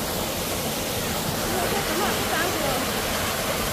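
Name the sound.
waterfall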